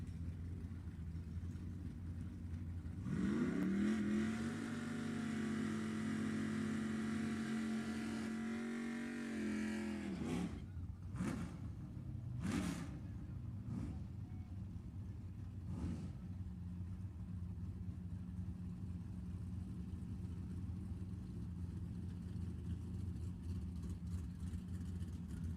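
A race car at an ET bracket drag race at Sacramento Raceway, its engine droning loud and steady for several seconds, then a few sharp revving bursts and pops before fading to a distant rumble, with no talk.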